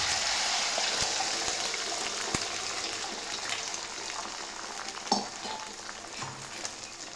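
Beaten eggs poured into hot oil in a pan for Marathi-style egg bhurji, frying with a steady loud sizzle and crackle throughout, with a few sharp clinks of a utensil and no talking.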